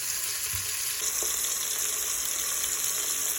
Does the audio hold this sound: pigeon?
no